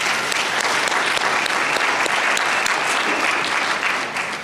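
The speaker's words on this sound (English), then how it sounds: "Let's give them one more round of applause." An audience at a workforce and education summit claps in sustained, dense applause, loud and even throughout with no voices standing out.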